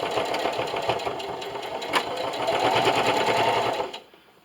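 A sewing machine runs in a steady, rapid stitch across elastic on a fabric rollup silverware holder, carrying on for about four seconds before stopping abruptly.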